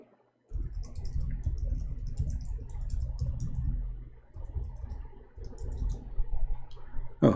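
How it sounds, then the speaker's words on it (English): Rapid clicking of keys on a computer keyboard, steady and close through most of the stretch with a brief pause near the end, without any talking. "Oh, I was typing"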